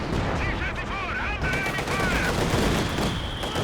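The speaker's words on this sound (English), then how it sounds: "Just for another creeping barrage." Creeping artillery barrage in Company of Heroes 2, a dense rolling mass of distant explosions and crackling gunfire that stays loud and continuous, with faint whistling shells overhead.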